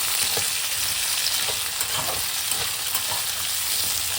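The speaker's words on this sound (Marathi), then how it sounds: "त्यामध्ये मी ही रताळ्याचे धुतलेले काप टाकतेय आपल्याला ते परतून घ्यायचे आहे" Washed sweet potato slices frying in ghee in a pan, a constant, fairly loud hiss of sizzling with faint scattered pops, no voices.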